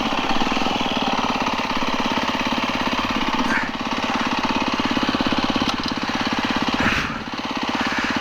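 Steady, close drone of a 2020 Beta 390 RR dirt bike engine being run in, a continuous buzzing thrum with slight dips in revs throughout.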